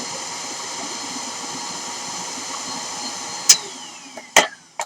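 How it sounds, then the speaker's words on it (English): Vacuum cleaner running steadily up close while cleaning a dusty DVD drive pulled from a game console, a constant whirring hiss throughout, with a few sharp knocks and clatters near the end as the nozzle bumps the drive. "Get the vacuum out."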